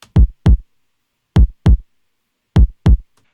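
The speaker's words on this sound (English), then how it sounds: "Now all 5 of these kicks sound like this together." Five layered rock kick drums playing a pattern of three pairs of punchy, deep thumps, each pair close together, with silence between, no other sound.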